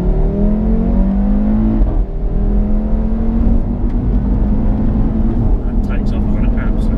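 A used Audi RS3 pulls hard at full throttle, its engine note climbing, breaking briefly at a gear change, then surging again loud and close from inside the car, with voices briefly near the end.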